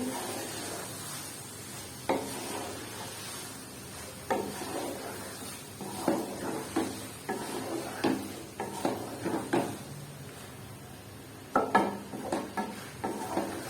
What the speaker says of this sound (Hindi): हमने इसमें गोभी डाल दी है, अब हम इसे अच्छी तरह मिक्स करेंगे।